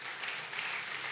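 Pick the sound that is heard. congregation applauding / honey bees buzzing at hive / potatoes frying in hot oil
congregation applauding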